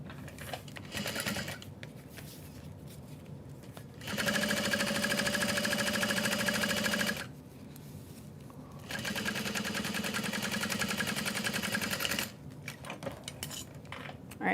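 A sewing machine top stitches through a bulky folded seam on a tote bag, running in two long close bursts of steady whirring needle chatter separated by pauses with small handling clicks and rustles.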